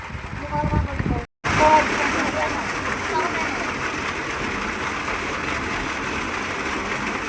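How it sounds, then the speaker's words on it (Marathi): Water gushes steadily from a water tanker into storage tanks, a loud continuous rushing pour close by, briefly cut off near the start and then running unbroken to the end. "ह्या टाक्यांमध्ये पाणी सोडा सांगितलंय मिस्त्रीनी."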